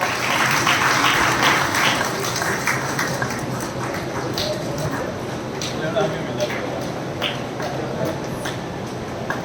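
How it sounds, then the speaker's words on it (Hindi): Loud, dense applause from an audience at a school award and memento ceremony, with a steady clapping wash throughout and speech mixed in. "जोरदार तालियां बजती रहे भाई"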